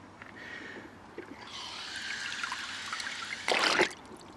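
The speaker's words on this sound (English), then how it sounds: "Now, just drop it in that bucket of water." Hot, burnt-out dishwasher pump motor dropped into a bucket of water, giving a soft trickling and bubbling sizzle that builds over a few seconds and ends in a short, louder splashy hiss, close and fairly quiet.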